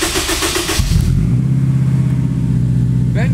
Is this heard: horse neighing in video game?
no